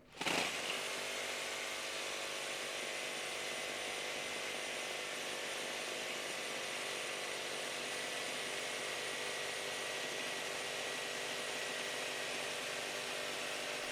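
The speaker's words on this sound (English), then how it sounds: "I am putting as much weight down on these saws as I possibly can" Milwaukee Super Sawzall M18 Fuel and DeWalt Flexvolt reciprocating saws cut under heavy downward pressure, one loud, steady, high-pitched buzzing roar that runs unbroken for the whole stretch after a sharp start.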